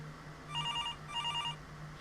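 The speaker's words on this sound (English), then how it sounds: "until the phone rang again" A telephone bell rings in two short trilling bursts over a faint steady hum, fairly quiet and with no talking.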